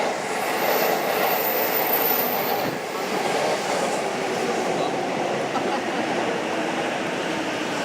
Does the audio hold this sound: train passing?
yes